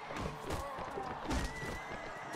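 Horses whinny and neigh in the midst of a Mount & Blade Warband battle, several loud calls close by over hooves clopping and the clash of fighting.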